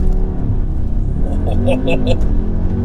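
A 300bhp 2019 Audi SQ2 sports SUV engine rumbles steadily, held at 4,000 revs, then revs up as it launches and pulls away, with a person talking over it.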